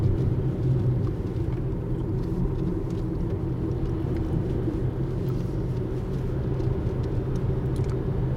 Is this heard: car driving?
yes